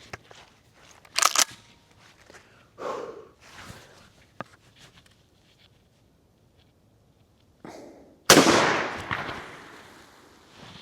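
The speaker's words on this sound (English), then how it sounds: "this is a 1 ounce slug at the cardboard man, 10 feet" A shotgun fires a 1 ounce slug at a cardboard man target 10 feet away, a single sharp loud blast followed by a rushing decay, after scattered handling clicks and quiet stretches.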